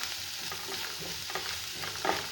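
Poha upma sautéing in a pan, with a steady close sizzle and soft scraping stirs, brief and free of voices.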